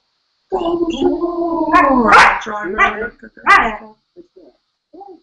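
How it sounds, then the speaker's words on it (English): Dogs barking in a driveway, a close, loud run of rough, tonal barks and yips in quick succession that tapers into a few quieter, fainter yelps. "The dogs in the driveway."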